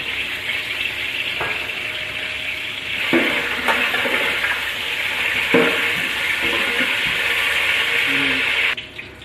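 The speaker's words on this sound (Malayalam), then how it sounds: "ചൂടായ എണ്ണയിലേക്ക് നമ്മൾ നേരത്തെ എടുത്ത് വെച്ചിട്ടുള്ള ഗ്രാമ്പു കറുവപ്പട്ട ഏലക്കായി നമ്മളെ ചേർക്കുന്നു" Whole cloves, cinnamon and cardamom pods crackle and sizzle in hot oil, a steady close frying hiss with scattered pops and a utensil clink or two, stopping abruptly near the end.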